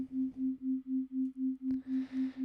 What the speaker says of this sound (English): we've just got a sine wave that is having a little bit of tremolo